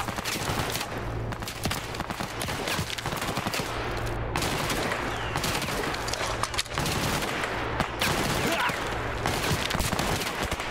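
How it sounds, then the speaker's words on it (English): Dense automatic gunfire and repeated shots in the video game Stalker Clear Sky, fired into a tree, a continuous loud hail of bursts with brief pauses and faint talk underneath. "It's putting a hail of gunfire into this tree, they are."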